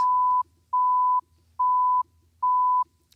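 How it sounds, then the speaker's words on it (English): A steady 1 kilohertz broadcast test tone of the kind once used for radio and TV emergency alerts, sounding as four clean, even beeps of about half a second each, separated by short silences, loud and alone. "1 kilohertz tone is what they use."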